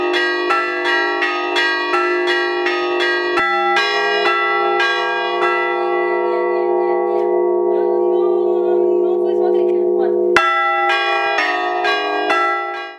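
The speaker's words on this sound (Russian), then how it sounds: "После праздника Пасхи мы всю неделю можем слышать колокольный звон" Orthodox church bells ring out in a layered, clanging peal during Easter week, several bells struck in rhythmic bursts with a long resonant hum between strikes.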